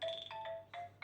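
Ringtone from a Nokia Lumia 635, a short, lively electronic melody of sustained synth notes and soft percussive hits, clear and close with no talk.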